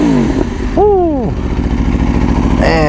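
A motorcycle engine running nearby, loud and rumbling, with the pitch rising and falling through a couple of revs and a voice speaking over it.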